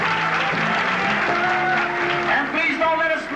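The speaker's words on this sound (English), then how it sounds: "Let's hear those hands clapping." Audience applause at a 1983 Miss Malta of Toronto pageant, a dense, steady burst of clapping from a crowd filling the whole moment, loud and close, with a voice faintly over it.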